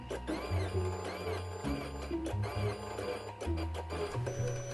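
A 3D printer prints a Star Wars Rebel-base pen holder, its stepper motors whining in shifting tones with quick stop-start moves. The sound is close and continuous for several seconds, with no talking.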